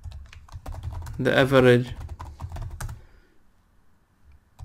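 Quick keystrokes on a computer keyboard while C++ code is typed, soft rapid clicks scattered around someone speaking briefly, then fading into near silence.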